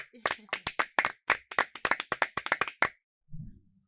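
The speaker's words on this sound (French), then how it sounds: "Sous vos applaudissements, s'il vous plaît." A small audience at a school ceremony gives a brief round of sharp, unsynchronised hand claps for about three seconds, then stops, leaving a short low murmur at the end.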